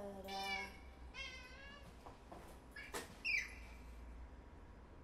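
A cat meows several times, short rising and falling cries spread across a few seconds, fairly quiet and close, with faint background noise.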